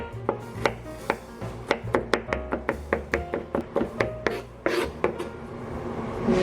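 Garlic cloves are finely minced with a knife on a cutting board: about twenty quick, crisp taps in a steady rhythm, close and clear, with a short pause before a final few strokes.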